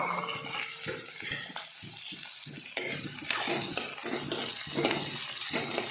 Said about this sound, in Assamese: পিঁয়াজ ঢালি আছোঁ।